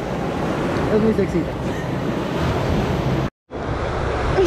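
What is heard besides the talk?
sea waves at the beach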